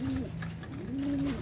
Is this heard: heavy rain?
no